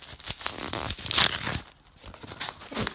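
A fruit tea bag's wrapper tears open with a sharp crinkling rip, close and fairly loud, surrounded by brief paper rustling and handling noises with no talk.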